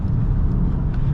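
A BMW E36 engine holds a steady, throaty hum at mid revs, close and loud, with no voices over it.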